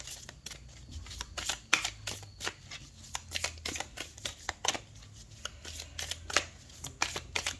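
Tarot cards are shuffled close up, a continuous run of papery riffles, slaps and flicks in an uneven rhythm over a faint low hum.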